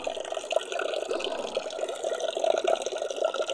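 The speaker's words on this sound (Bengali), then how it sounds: "এবার এগুলো আমি ভালো করে জলের মধ্যে ধুয়ে নেব" Pumpkin leaves (ash gourd leaves for a mustard-poppy recipe) washed by hand in water, with steady continuous splashing and trickling close by, fairly soft, no talking.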